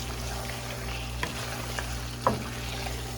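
Sindhi fish curry with potatoes simmering in sizzling masala as it is gently stirred, a steady low frying hiss with a few soft scrapes and one sharper spoon knock near the end.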